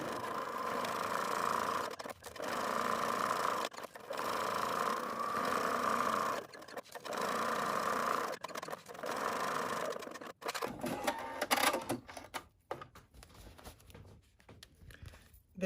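A sewing machine top stitching fabric while closing a turning opening, steady close whirring runs broken by several brief pauses, then scattered handling clatter toward the end.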